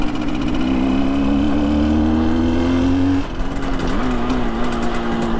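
A 1966 Suzuki 150 two-stroke motorcycle engine under way: a steady, buzzing drone held close and loud throughout, with a brief dip and shift in pitch partway through.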